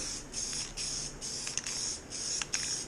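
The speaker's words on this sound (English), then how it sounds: "then we spray them down with clear" Several short hissing bursts from an aerosol can spraying clear lacquer onto printed labels, in a quick stop-start rhythm, close by with no talking.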